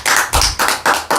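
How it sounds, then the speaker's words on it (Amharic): An audience claps for a woman who just gave a correct answer, in loud, dense bursts of applause that rise and fall in quick pulses about four times a second. "ጎበዝ አጨብጭቡላት።"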